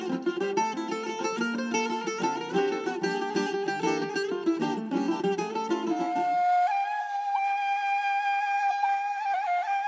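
A Bulgarian kaval, an end-blown wooden flute, enters after a busy plucked-string passage and holds a clear, breathy sustained melody note with steady overtones, played alone at moderate loudness.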